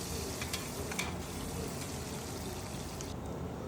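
Onions and green chillies sautéing in a pan for pulav rice, a steady close sizzle with faint spoon scrapes and clicks, with no talk over it.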